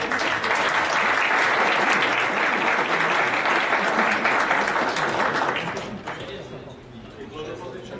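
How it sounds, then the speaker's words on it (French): An audience applauds loudly and steadily, with the clapping thinning and fading toward the end. "on peut les applaudir très fort"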